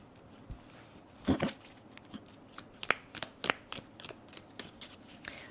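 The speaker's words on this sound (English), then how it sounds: "The way that I lay the cards out, like this." Tarot cards are laid out on a table in soft, close slaps and flicks, a handful of brief card taps spaced irregularly against a quiet background.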